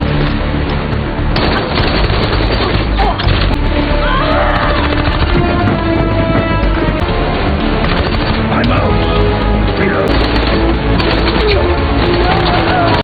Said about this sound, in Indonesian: hingga adu tembak pun terjadi